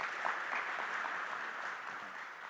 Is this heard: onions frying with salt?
no